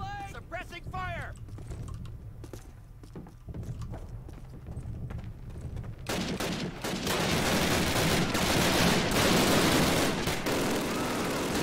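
Suppressing gunfire in a Call of Duty battle, rapid overlapping shots that thicken into a heavy, continuous roar in the second half, with shouted voices and clattering battlefield noise mixed in.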